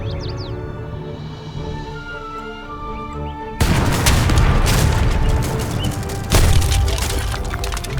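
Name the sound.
cannon fire in video game Age of Empires 3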